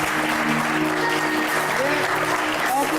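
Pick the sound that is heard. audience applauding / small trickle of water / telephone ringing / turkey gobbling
audience applauding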